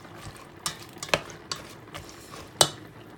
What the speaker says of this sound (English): I'm stirring it now because I want to make sure it's all starchy